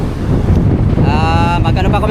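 Heavy wind buffets the microphone at a fishport near windmill parts, a loud low rumble throughout, with a voice and a brief tonal sound breaking through partway.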